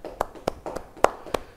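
A church congregation gives scattered hand claps during a Bible study sermon, about six distinct sharp claps spaced irregularly over a quiet room.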